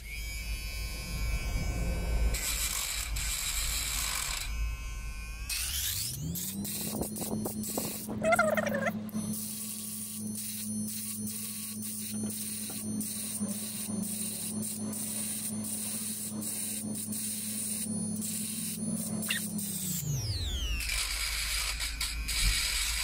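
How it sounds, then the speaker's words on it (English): A rotary tool grinding stone bevels the inside and outside edges of a cut glass bottleneck slide, giving a steady high motor whine with rising and falling pitch as it spins up, grinds for about fifteen seconds, then winds down. "I'm using one of these grinding stones here, and what I want to try and do with this is put a bevel on both the inside and the outside edges"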